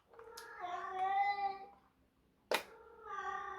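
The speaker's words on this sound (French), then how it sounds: "on va faire avec le chat qui miaule" A pet cat meows indoors in two drawn-out calls, the first long and wavering, the second starting with a sharp attack after a short pause, close and fairly clear with rain faintly in the background.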